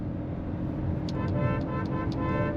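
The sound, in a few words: Kia Sonet car horn honking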